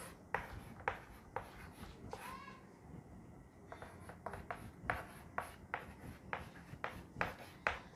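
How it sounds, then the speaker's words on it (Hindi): Handwriting during a Hindi grammar lesson on gender: a pen or marker scratches out repeated short strokes in quick, uneven bursts, close and clear, with no talking over it. "लिखते हैं इसको"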